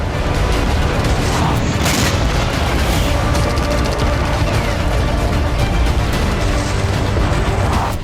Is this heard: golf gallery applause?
no